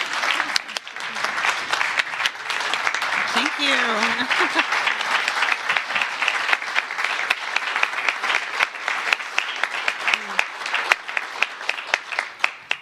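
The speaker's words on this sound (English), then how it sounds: "let us all give you a big round of applause" A crowd at a pro-life celebration event gives a sustained round of applause for a speaker, dense and steady clapping for the whole stretch while a voice briefly speaks over it.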